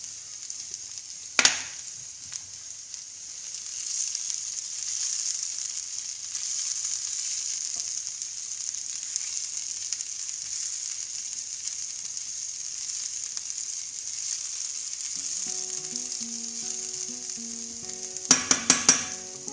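Cumin-style seeds sizzling in hot oil in a pan for tarka dhal: a steady, close frying hiss runs throughout, with a sharp clatter near the start and a few quick knocks near the end.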